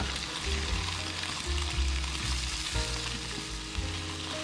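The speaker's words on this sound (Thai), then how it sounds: "แล้วก็เติมบวบลงไปครับเราจะรอให้ไข่ของเราเซ็ตตัวดีค่อยคลุกนะครับ" Luffa gourd and egg stir-frying in a hot pan for a shrimp dish, a loud continuous sizzle with scraping and stirring noises throughout, no talking.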